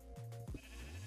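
Sheep bleating in a video game, a short close wavering bleat over a low background hum.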